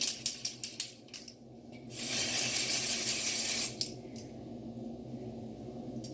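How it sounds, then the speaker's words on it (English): A few quick clicks, then a sustained hiss of an aerosol can of dry shampoo spraying onto hair for about two seconds, followed by a short burst. "I am going to go in with my dry shampoo"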